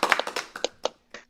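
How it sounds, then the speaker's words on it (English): A short burst of hand claps, roughly eight sharp slaps in quick uneven succession, close and crisp, tapering off with a final clap, with no talking. "we should all give a big virtual round of applause to Peyton and Derek"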